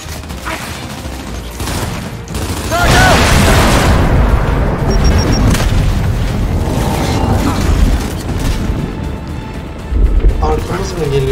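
Grenade launcher explosions in Gears 5, heard as a loud, sustained rumbling boom with heavy low-end energy through the middle, mixed with gunfire and game noise while a player talks.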